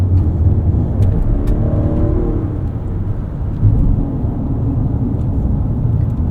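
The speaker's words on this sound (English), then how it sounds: "the V6 kind of snarls away in the background" 2024 Lexus TX 550h+ plug-in hybrid's V6 engine snarling softly in the background while driving, a steady low drone with a brief rising rev partway through, no talking.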